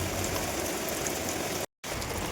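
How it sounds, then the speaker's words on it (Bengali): Heavy rain pouring outside, heard from shelter beneath a tractor as a dense, continuous roaring wash, broken only by a brief dropout near the end. "বাইরে প্রচুর বৃষ্টি হচ্ছে প্রচণ্ড"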